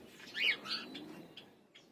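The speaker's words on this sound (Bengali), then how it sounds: "সব ঘরের কবুতরগুলো" Domestic pigeons in a loft give a few soft, high chirps and squeaky calls over a faint low background, close by with no talking.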